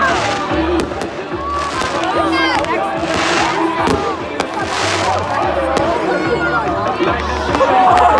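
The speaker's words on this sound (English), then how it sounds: "These are so cool fireworks." Fireworks crackle and pop in the air over a high school homecoming game, with bursts of whistling and sizzling overhead while a crowd chatters and people talk nearby.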